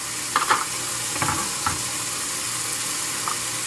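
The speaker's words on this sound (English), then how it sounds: "don't forget to stir your frying pan so you don't burn one side of the meat" Steady sizzling of meat frying in a pan, with a few soft scraping clinks of stirring near the start.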